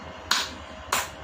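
Two sharp, close hand claps about half a second apart during a clap yoga session, each ringing briefly against a quiet background.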